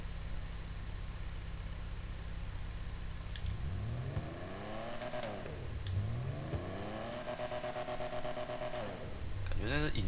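A Benefactor Stirling GT classic sports car in GTA 5 idles low and then revs up twice in rising and falling sweeps, close and fairly loud, with a brief surge again at the end.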